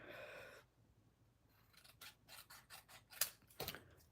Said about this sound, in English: Yeah, I have to cut it here.